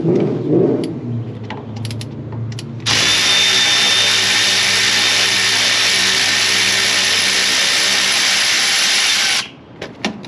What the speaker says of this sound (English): as you heard that V8 revving from that hoon